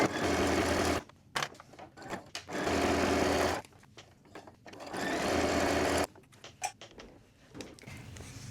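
A sewing machine stitches a quilted keychain wallet in several loud, whirring bursts separated by brief quiet pauses, with no talking.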